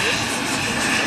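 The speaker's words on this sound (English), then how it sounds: "Two airliners, absolutely cracking, flying down the course back from the control tower." Model airliners in KLM and EasyJet liveries fly past along the course at a model air show, a steady, continuous engine drone with broadband whine that fills the whole short stretch, with talk present.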